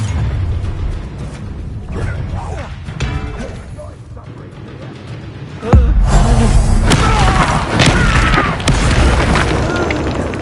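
An Incendio fire spell goes off in the video game Hogwarts Legacy: a sudden loud booming burst midway that sustains as a roaring blast over busy game combat noise.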